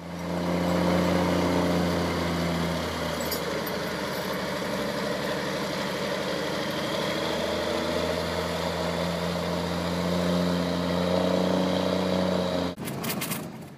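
A truck hauling a shipping container up a mountain road, its heavy engine droning loud and steady for the whole stretch with slight shifts in pitch, then a brief clatter near the end.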